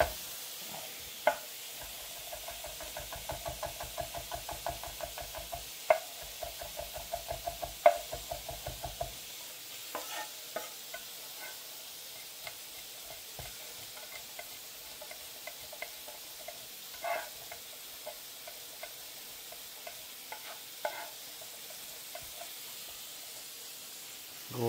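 Garlic fries in a pan for a prawn and tomato bucatini, a constant close sizzle and hiss broken by scattered clicks and scrapes of stirring, busier at first and then thinner.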